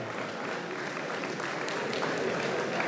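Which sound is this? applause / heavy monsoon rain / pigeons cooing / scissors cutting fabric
applause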